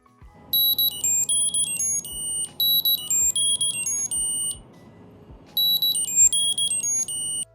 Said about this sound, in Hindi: जिस चाबी में जो मेरी डिवाइस लगी है वहाँ पे वो बीप होना स्टार्ट हो जाएगी